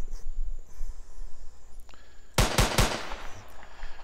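Gunfire in an Unreal Engine 4 shooter's infected game mode: a quick burst of three or four sharp shots lands midway, following a stretch of quiet ambient hum, with nothing after but faint background tone.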